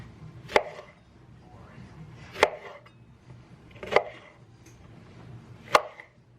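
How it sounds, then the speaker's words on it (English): Lemons being sliced with a knife on a cutting board: four sharp, close chops hit the board at slow, irregular intervals, with quiet gaps between them and no talking. "So I'm just gonna prep my lemons different ways."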